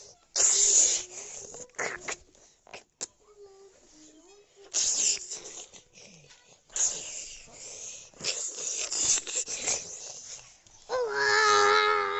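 A house cat gives several loud meows and wails in bursts during a home earthquake, with a voice speaking between the cries and a harmonic, drawn-out yowl near the end.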